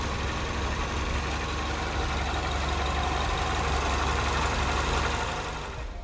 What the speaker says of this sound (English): We'll now take a quick peek at the engine running